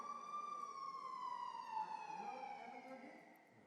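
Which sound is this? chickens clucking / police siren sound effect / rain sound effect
police siren sound effect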